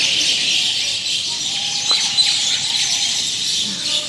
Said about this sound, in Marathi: ते पक्षी किती चिमणे आहेत का काय झालो चिमण्यात आहेत ना